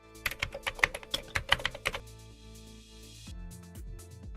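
Fingers tap out a password on a computer keyboard in a quick, uneven burst of close, crisp keystrokes, then stop, leaving low background hum.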